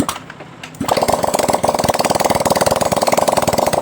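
Honda Vario 150 scooter engine, freshly fitted with a new cylinder block, kick-started after a weak battery; it catches abruptly and settles into a loud, steady, rapid idle pulse close by.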